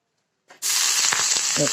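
Water splashed onto a hot tawa bursts into a loud, close sizzle after a moment of silence, hissing steadily with faint scraping.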